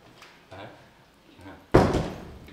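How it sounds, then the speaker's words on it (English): An indoor door is pushed shut with a single solid thunk that stands out loud after a stretch of soft, muffled voices and movement in the room. "Let me just close the door."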